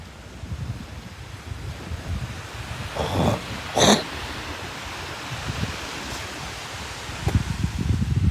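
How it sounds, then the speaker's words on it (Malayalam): Strong wind gusts across an open seashore, buffeting the microphone with rumbling bursts over a low wash of surf. "നല്ല കാറ്റുള്ളതുകൊണ്ട്"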